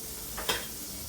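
Onion hitting a hot pan for a child's roll, a short burst of sizzle with a faint stir, close and alone, then fading to a low crackle.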